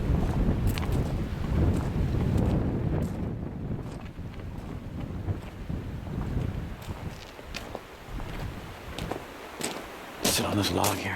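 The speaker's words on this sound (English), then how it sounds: "Not sure if you can hear me with that wind." Wind blowing outdoors in snowy woods, a steady rushing roar buffeting the microphone close up throughout, with people talking over it.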